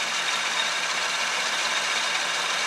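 A 1966 Chevrolet C10 barn-find pickup idles at about 800 RPM after a tune-up, a steady, close, unbroken engine hum with no variation.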